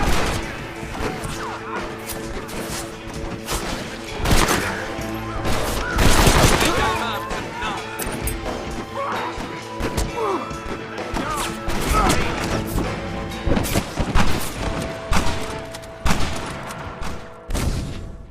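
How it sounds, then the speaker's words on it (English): Heavy high-powered rifle fire in a Red Dead Redemption shootout, dense repeated loud cracks and bursts from several guns layered over each other, with a voice talking intermittently underneath. "Another segment of shooting our way to a goal, yet another with high-powered rifles."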